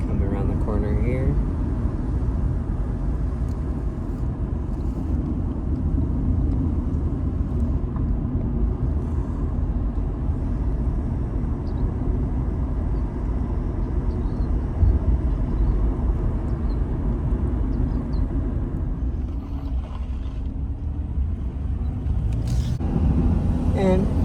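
A 1997 Pontiac Grand Am SE coupe with a 2.4 liter four-cylinder Quad 4 engine drives steadily, its engine and road noise continuous and fairly loud throughout from inside the cabin.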